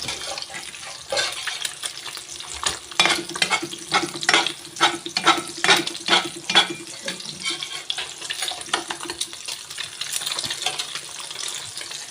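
Eggs fry in a pan with a steady sizzling hiss, joined by a burst of close scraping and stirring strokes in the middle, then easing back to the sizzle alone.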